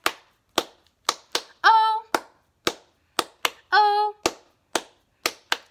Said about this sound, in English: We're just going to be clapping.